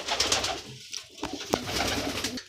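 Pigeons coo nearby, soft repeated throaty calls overlapping one another, with some wing flutters and scuffling mixed in.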